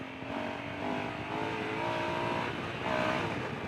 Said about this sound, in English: You want to hear the exhaust again?